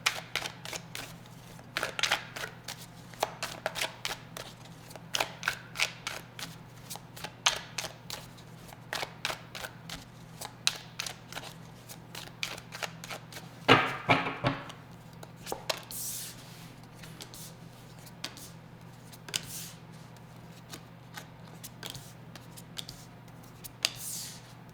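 Tarot cards are shuffled and pulled from the deck in a quiet room, giving a long run of close, crisp flicks and snaps with irregular rhythm and a louder riffle partway through, no voices.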